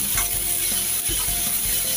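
Onion sautés in hot oil for a Marathi bitter gourd dish, a close, steady sizzle with soft stirring scrapes repeating every half second or so.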